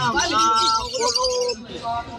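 Pet birds chirp and tweet close by in a busy, overlapping chorus of bright calls, with talking mixed in underneath.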